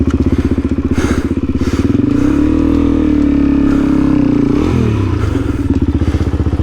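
A Suzuki DRZ400E motorcycle engine drones loud and close as it rides a rough desert track, the steady note rising and dipping with throttle while the chassis bumps and rattles over the uneven ground.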